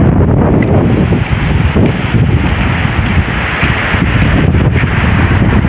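Loud, roaring gusts of typhoon wind batter the microphone over the constant rush of surging floodwater waves, a dense, unbroken wall of noise with no clear voices.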